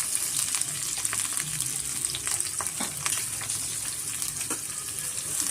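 Green chili and onion sizzling in an oil pan for chicken gundkai pepper dry, a steady close frying hiss with occasional stirring scrapes and no voices.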